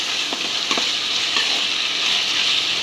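A ground pepper paste sizzles and fries loudly in a hot pan. A few soft scrapes of stirring break through the continuous crackle.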